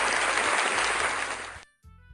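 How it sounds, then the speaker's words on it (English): Applause from the Doki Doki Literature Club visual novel: a loud, dense burst of crowd clapping that holds steady for about a second and a half, then cuts off abruptly into near silence. "Sayori finishes, and we applaud"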